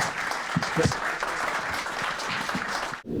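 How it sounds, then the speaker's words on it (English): Audience applause at a football club event, a steady burst of clapping with a few voices mixed in, cutting off abruptly near the end. "Ladies and gentlemen, round of applause for Si Ferry and Hosty for coming up"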